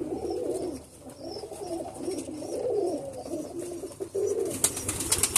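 Pigeons coo steadily in a breeding loft at the end of the nesting season, with soft, repeated low cooing near and continuous, and a few rustles and faint chirps toward the end.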